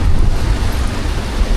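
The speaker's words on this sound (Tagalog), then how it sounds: "Ang lakas ng ulan." Heavy rain pours down steadily at an outdoor amusement park, a dense, loud continuous roar with no break across the whole stretch.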